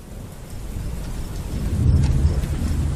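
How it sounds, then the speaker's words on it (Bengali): A heavy downpour pours steadily while deep thunder rumbles and swells louder toward the end, close and full. "বাইরে বৃষ্টি হচ্ছে অঝোর ধারায়, যেন আজই মহাপ্রলয়ের নির্ঘণ্ট উপস্থিত। বিদ্যুৎ চমকের ভোঁতা শব্দে ছোট্ট বদ্ধ ঘর কেঁপে কেঁপে উঠছে।"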